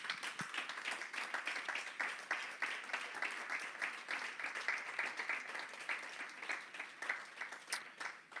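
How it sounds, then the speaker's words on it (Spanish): A church congregation applauds in steady, dense clapping that holds at an even level throughout, with no talk over it. "Dele un aplauso al Señor."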